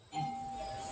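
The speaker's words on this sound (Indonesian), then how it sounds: "menekan bel pintu" A doorbell pressed at the front door of a house, a single electronic chime tone ringing out clearly and sustained after a soft onset.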